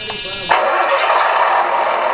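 A custom RC Tonka dump truck's onboard sound system kicks in abruptly with a simulated diesel engine, settling into a steady, loud, close idle drone that fills the rest of the short clip.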